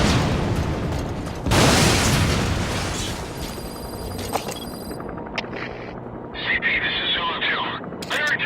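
A heavy boom from a support strike in Metal Gear Solid V: Skullface lands as a sudden, loud blast, then a rolling rumble and scattered crackling bursts, with radio-style voice lines and game sounds mixed in.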